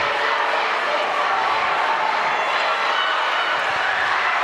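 A high school basketball crowd at St. Joe's cheers in a gym just before tip-off, a steady dense roar of voices and shouting that stays loud and even throughout.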